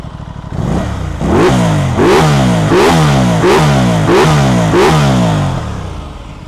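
A 2021 Aprilia RS660 600cc supersport motorcycle engine revs repeatedly, with about seven sharp throttle blips rising and falling in a steady rhythm, loud and close after the engine catches.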